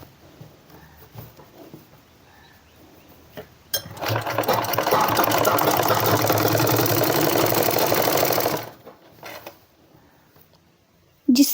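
A sewing machine stitching a seam on a women's shirt, a steady, loud whirring run of about five seconds, with quiet handling noises before and after and no talk.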